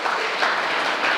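Audience applause at a rural Marathi literary conference: a brief, even wash of clapping from a crowd, with no voices over it.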